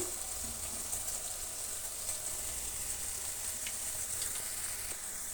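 Pakoda with onion deep-frying in oil, a steady, moderately loud bubbling sizzle with occasional soft pops, continuous and without talk.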